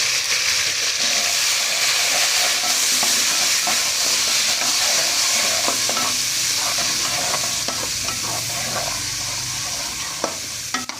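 Ginger garlic paste sizzles loudly in hot oil in a pot, with steady frying hiss and repeated scraping clinks of a spoon stirring throughout.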